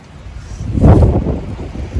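Strong, gusty wind buffets a spring garden in late March, roaring across the microphone with a surge near the middle of the short stretch, and no voices are heard.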